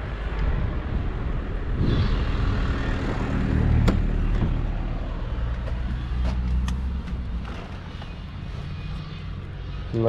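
A pre-facelift BMW X5 E53 4.4i, chip-tuned to 309 hp, drives through the city, its engine a steady low rumble heard from inside the cabin, swelling slightly as it accelerates, with brief clicks and a voice in the background.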